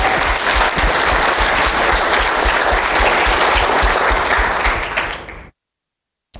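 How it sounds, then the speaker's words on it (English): A panel discussion audience gives a loud, sustained round of applause, dense and even for about five seconds before cutting off abruptly into silence. "I'd like to give her a round of applause"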